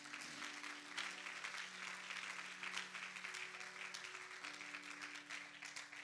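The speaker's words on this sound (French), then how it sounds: "Acclame pour Jésus." A church congregation claps steadily and enthusiastically during a worship service, dense sustained applause with a few sung or held voice tones underneath.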